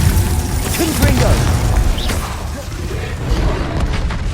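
Confringo blasting spell cast in Hogwarts Legacy on PS5, a burst of crashing, booming impacts layered over busy combat noise and game music, with a heavy hit near the start and more clatter through the rest.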